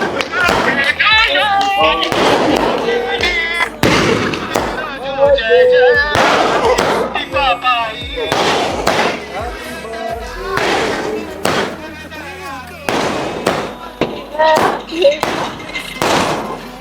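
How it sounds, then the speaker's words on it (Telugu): Firecrackers burst at a birthday celebration on a terrace, sharp loud cracks and thuds going off irregularly amid music and people talking nearby. "అంకుల్ టపాసులు తీసుకొస్తే ఆ టెర్రస్ మీద సాంగ్స్ పెట్టి మహి బర్త్డేని సెలబ్రేట్ చేశాం."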